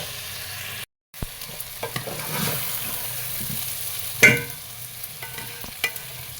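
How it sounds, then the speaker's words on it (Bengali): Lentils and potatoes cook with spices in a pan, a quiet sizzle broken by scattered scrapes and knocks of a stirring utensil, fairly close and low in level. "ডাল আর আলু ভালো মতো কষায়ে তারপরে এর মধ্যে চালগুলো দিয়ে দিব"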